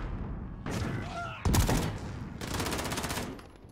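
Call of Duty gunfire crackles in rapid automatic bursts, with a sharp loud volley in the middle and a longer rattling stream near the end, while voices talk underneath.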